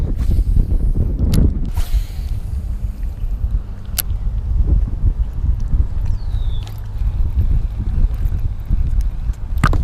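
Strong wind buffets the microphone with a constant low roar, punctuated by a few sharp clicks and knocks.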